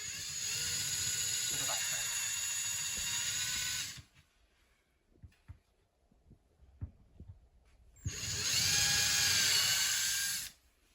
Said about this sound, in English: I'm going to just make some pilot holes where I've marked